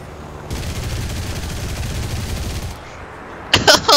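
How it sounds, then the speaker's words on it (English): Rapid aircraft cannon and machine-gun fire from a Yak-9 fighter in the War Thunder combat game, a dense sustained burst lasting about two seconds over engine drone, followed by a few sharp louder impacts near the end. "I like how the Yak 9 there just shot the shit out of me"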